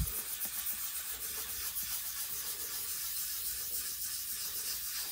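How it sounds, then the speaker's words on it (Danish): Wet sandpaper is rubbed over a plastic part of a Tamiya Volvo FH16 8x4 tow truck model kit, producing a soft, steady hissing scrape in short repeated strokes, close and fairly quiet, with no talking. "det er faktisk rimelig nemt at vandslibe"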